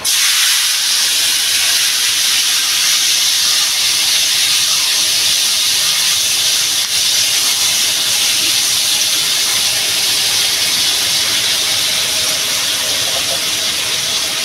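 Chopped tomato hits a hot pan for a tangy tomato chutney, releasing a loud, continuous hissing sizzle that holds steady and close for about fourteen seconds, with no talking.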